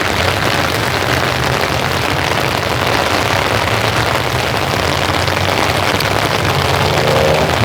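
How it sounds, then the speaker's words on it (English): Summer evening rain falls steadily and fairly loud, a dense hiss of drops on surfaces throughout, with a faint low rumble of traffic underneath; no one speaks. "Trying to keep the umbrella above my head because it is rainy out here, guys."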